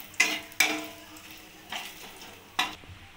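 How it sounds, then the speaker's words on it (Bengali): Whole cardamom, cinnamon and cumin fry in hot oil under a faint sizzle while a utensil stirs them, making four sharp scraping clacks at uneven intervals close by. "এবার মশলাটাকে, ফোড়নটাকে ভালো করে নাড়িয়ে নেব।"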